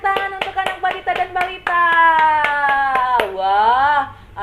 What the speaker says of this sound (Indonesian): Oke, tepuk tangan untuk anak Batita dan Balita.